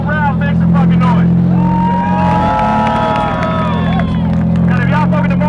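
A crowd cheers and whoops at a car show on a drift track, rising in a loud swell mid-clip over a droning engine, with talk around the edges.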